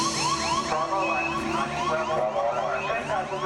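A repeating electronic alarm from the Apollo 11 lunar module landing, as heard in a film shown at Kennedy Space Center, sounds as rapid rising beeps cycling steadily and clearly for several seconds.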